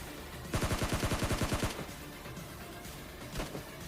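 Rapid automatic gunfire in PUBG Mobile Lite, a loud burst of about a dozen evenly spaced shots lasting roughly a second, followed by fainter distant shots and ambient game sounds.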